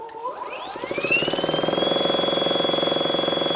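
A nitro RC helicopter engine under a VBar governor, switched to idle up 1, revs upward with a rising whine over the first two seconds, then holds a loud, steady high-pitched buzz with a fast pulsing rhythm.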